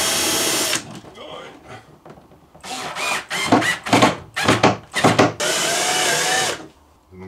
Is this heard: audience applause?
no